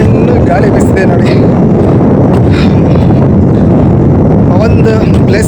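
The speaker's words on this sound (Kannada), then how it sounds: "ಗಾಳಿ ಬೀಸಿದೆ ನೋಡಿ." Strong wind buffets the microphone at a hilltop viewpoint in Mandalpatti near Madikeri, a loud, continuous roar that covers the whole stretch, with faint talk half buried underneath.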